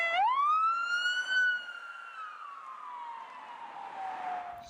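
A toy police car's electronic siren gives one rising wail that holds, then slowly falls, fairly close and clear against a quiet background.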